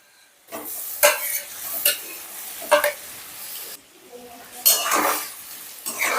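Fried eggs are stirred into a sizzling spice mixture in a pan for butter garlic eggs, with several distinct scraping, clinking strokes of a utensil against the pan between quieter sizzling pauses.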